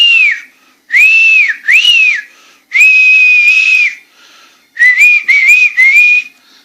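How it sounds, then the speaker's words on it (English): A person whistles a string of loud, clear, close tones in short bursts with gaps between them, some phrases rising and falling, others held steady, with no talk. "So if I whistle"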